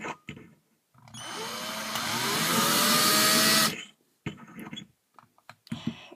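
A power drill boring into the metal of a can while making a penny stove, a rising whine with grinding scrape that builds for a couple of seconds then cuts off, followed by scattered clatter and handling noises.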